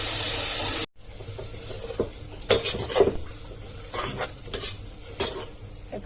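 Tomatoes with salt being sautéed in a pan for a village-style bottle gourd kootu, with a soft steady sizzle and several scraping stirs of a spoon against the pan, close and without speech.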